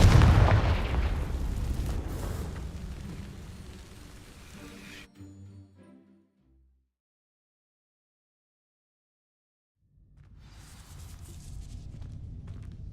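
Confringo fire spell from the Hogwarts Legacy video game igniting dry vines: a loud, roaring blast that rumbles and fades over several seconds, drops into near silence, then gives way to renewed ambience.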